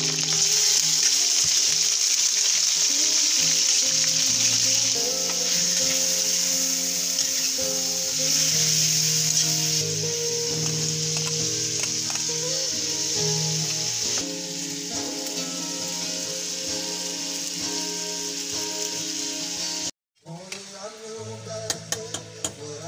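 Garlic sautés in oil in a hot pan, giving a loud, steady sizzle for about twenty seconds. The sound cuts off abruptly, then a few quieter clinks and sizzles follow.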